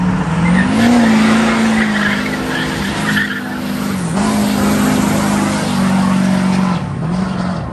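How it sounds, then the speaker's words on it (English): A Chevy truck does a tire burnout, its engine roaring loudly while the tires squeal in a continuous, wavering screech that rises and dips in pitch over several seconds, up close and with no talking. "It did a little decent burnout."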